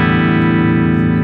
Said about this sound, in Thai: มาลองฟังเสียงแตกดีกว่าใช้ควบคู่กับซัสเทนเนอร์เลยแล้วกัน